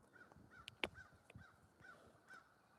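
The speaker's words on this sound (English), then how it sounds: "Oh, that's a crow right over top of me." A crow caws overhead in a quiet outdoor field, giving two or three short, separate calls over faint background rustle.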